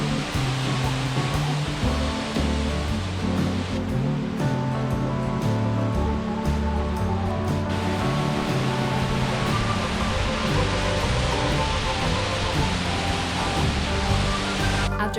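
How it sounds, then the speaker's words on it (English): Louth Falls, a waterfall running full after rain, gives a steady broadband rush of falling water throughout, partly overlaid by tonal music. "We stopped at the top of Louth Falls and enjoyed the views of this gorgeous waterfall."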